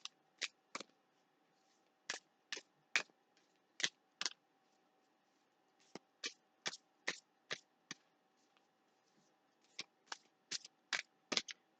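Tarot cards being shuffled in the hands, a series of crisp riffling bursts in irregular clusters with short pauses between, close and fairly quiet against a faint steady hum.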